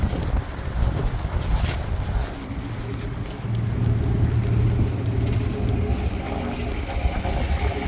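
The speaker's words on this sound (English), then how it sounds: "It's starting to get windy, if you haven't noticed." Wind gusts rumble and buffet outdoors near a car on St Patrick's Day, a constant low roar with a faint engine hum underneath, and no one speaking.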